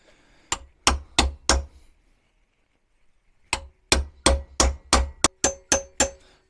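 A 36mm socket is hammered onto the metal lip of a VW T25 front gearbox mount bush. It comes as two close bursts of sharp metallic strikes, four blows then about nine, with a short silent gap between them.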